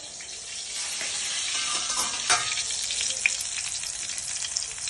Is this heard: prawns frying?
yes